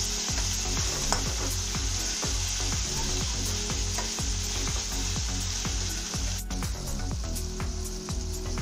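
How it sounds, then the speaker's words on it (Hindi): Pumpkin pieces frying in oil for a halwai-style kaddu sabzi, giving a steady close sizzle with repeated stirring scrapes and clacks all the way through, and no one speaking. "हम इसको बढ़िया से रोस्ट करेंगे। इसको पकाएंगे इस तेल में।"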